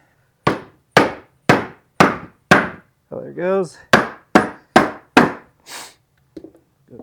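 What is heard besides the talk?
hammering to pop a golf cart motor gasket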